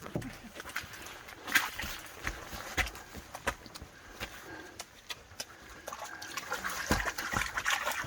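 Boots slosh and splash into lake water at Algonquin Park's Big Trout Lake, faint intermittent sloshing and trickles close by in a quiet outdoor setting, with occasional soft voices.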